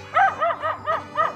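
Guard dogs at a chicken farm keeping Rhode Island Red hens bark about five times in a quick, even series, close and clear, with no voices.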